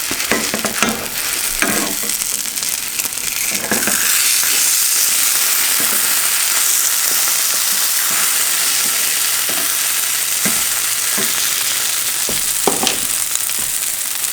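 A cheese omelet sizzles steadily in a hot pan, a loud continuous frying hiss with occasional pops and scraping clicks of a spatula, with no talking.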